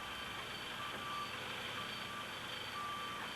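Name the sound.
dump truck reversing beeps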